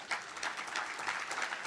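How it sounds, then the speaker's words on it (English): Audience applause at a graduation ceremony, a dense wash of many hands clapping steadily at moderate distance, with no one talking over it. "you should applaud yourself"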